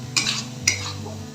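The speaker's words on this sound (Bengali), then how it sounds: "জল ছিটিয়ে ছিটিয়ে মশলাটাকে আমি কষিয়ে নেব।" Masala spices fry in a pan sprinkled with water, with two sharp spatula scrapes standing out over a low, steady hum and faint sizzling.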